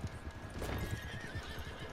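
A horse in the video game Red Dead Online galloping with rapid rhythmic hoofbeats and letting out a loud whinny partway through, heard close and alone without talk.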